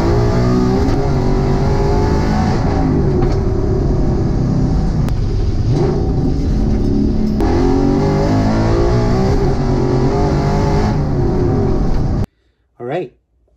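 A Coyote-swapped New Edge Mustang engine roars through loud, sustained acceleration pulls from inside the car, with rising drone and shift breaks, then cuts off abruptly before a voice speaks.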